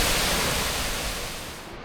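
Sambo Falls among the twelve falls of Naeyeonsan rushes as a dense, steady roar of falling water, broadband and unbroken, with no voices.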